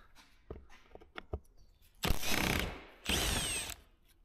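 A reversed impact gun spins off a Torx bolt on a car in two loud, sustained whirring bursts of about a second each, preceded by softer clicks and knocks from handling the tool, with no talking.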